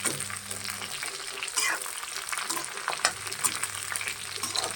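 Jackfruit pieces roasting and frying in a home kitchen pan, a continuous close sizzle with scattered scrapes and clinks as they are stirred, a low hum underneath early on.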